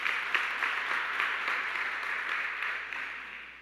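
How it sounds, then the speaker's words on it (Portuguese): Steady applause from a church congregation, a dense, even wash of many hands clapping that holds for several seconds and tapers slightly at the end. "Dá mais uma forte salva de palmas para Jesus."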